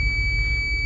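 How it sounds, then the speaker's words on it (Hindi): A multimeter continuity-test beep sounds during a Vivo V7 charging port check: a single steady, high electronic tone that holds through the whole moment over a low hum, with no talk. "एक बीप आएगी"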